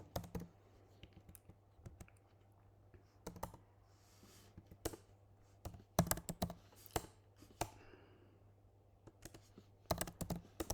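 Quick bursts of keystrokes on a computer keyboard while typing JavaScript code, crisp close clicks in irregular clusters separated by pauses, with a low steady hum underneath.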